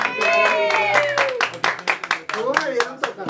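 Applause from an audience at a mariachi band's birthday performance, a short loud burst of clapping heard up close that mixes with singing and talk and then fades into speech.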